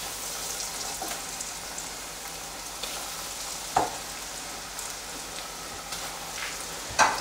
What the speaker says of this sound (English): So we're just going to put our prepared ham croquettes into the oil